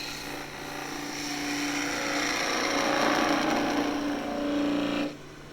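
A skew chisel cuts radiata pine spinning on a lathe while turning skittles, giving a steady, loud hiss and rasp of shaving wood that builds and then stops abruptly near the end.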